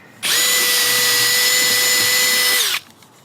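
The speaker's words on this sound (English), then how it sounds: "going to have to drill on an angle now" Power drill boring at an angle beside a stair jack on a deck build, starting with a smaller bit: one continuous, loud high-pitched whine lasting about two and a half seconds, then stopping abruptly.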